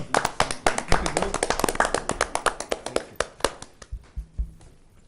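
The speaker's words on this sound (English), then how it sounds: "May we give an applause?" A small group at a Daly City Recreation Commission meeting claps, with close, individual hand claps in an uneven rhythm that thin out and stop after about four seconds, leaving faint room noise.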